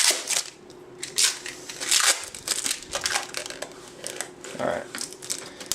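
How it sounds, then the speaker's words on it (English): Kapton tape unrolled and handled over a printer surface, giving crinkly crackling and tearing rustles in uneven bursts, close by, with someone speaking briefly over it. "roll out your Kapton tape until you have more than enough to lay down on this"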